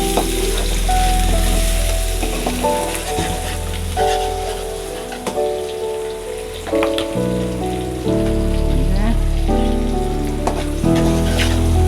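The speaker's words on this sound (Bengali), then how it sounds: "তেল দিলাম, পেঁয়াজ দিয়ে দিলাম পরিমাণ মতো কিছু।" Onion fries in hot oil for a fish curry with a loud, dense crackling sizzle, mixed with sustained tonal sounds and occasional sharp pops throughout.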